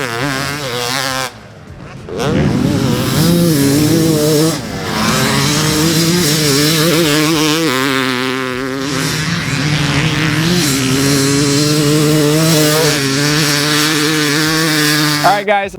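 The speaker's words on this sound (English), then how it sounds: "he brought out this pretty exotic KX315 two-stroke" A 2018 Kawasaki KX450 frame carrying a big-bore KX315 two-stroke dirt bike engine, revving and ringing loud and close, with the pitch rising and falling through repeated throttle blips after a brief dip near the start.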